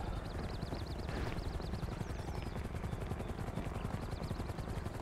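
A helicopter in GTA 5 thuds with rapid, steady rotor chop close overhead, loud and continuous throughout, mixed with a high warbling whine and game sounds, and no talking.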